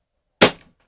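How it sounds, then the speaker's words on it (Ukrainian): One sharp, sudden shot from a Snowpeak PP750 4.5mm PCP air rifle fitted with an added sound moderator, loud and close, with a quick fading tail and silence on either side. "Другий постріл"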